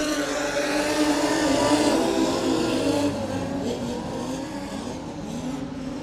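Modified sedans race at Cairns Speedway, a loud continuous engine roar with rising and falling pitch as the cars circle the track, close and dense, no voices heard.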